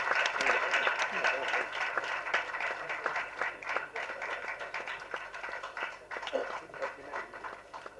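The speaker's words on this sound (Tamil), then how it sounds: "பலத்த கரகோஷங்களுடன்" Enthusiastic clapping from a crowd at a movie trailer launch event fills the space, dense and steady, with voices mingling underneath.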